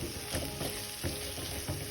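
Chopped ridge gourd sautés in a pan with softened tomatoes, a steady close sizzle broken by a few stirring scrapes, with no talking.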